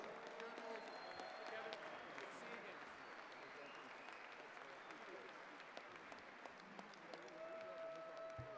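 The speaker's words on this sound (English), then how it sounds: "A round of applause for the Player of the Year, that is Kenneth Walker III." Sustained audience applause fills a banquet hall at a college football awards dinner honoring the Player of the Year, steady dense clapping throughout with faint voices mixed in.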